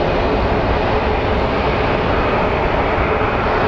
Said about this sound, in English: So we have a Frontier Airbus getting ready to depart